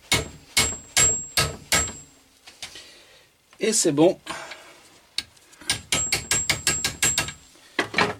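A hammer gently taps a steering damper seal held in a vise, a series of sharp, close metallic knocks in quick bursts, broken by a short spoken phrase midway.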